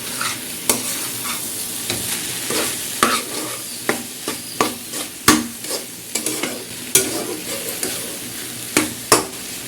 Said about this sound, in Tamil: கொஞ்சம் கலரிக்கிட்டே இருக்கணும், ஏன்னா அடி பிடிச்சிடும்